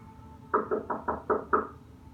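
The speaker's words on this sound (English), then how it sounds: "There was no doorbell, so I just knocked really hard." Six firm knocks on a wooden door in quick, even succession, close and resonant, followed by quiet.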